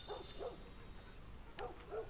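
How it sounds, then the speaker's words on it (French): A small dog barks faintly in the distance, two pairs of short woofs separated by a pause, against a quiet hum. "il y a un petit chien dehors, il est où le toutou?"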